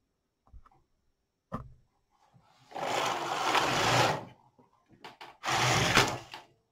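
A circular sock knitting machine knits its first zigzag row in two bursts of rapid mechanical whirring and clattering, each lasting about a second, separated by small clicks and quiet handling noises.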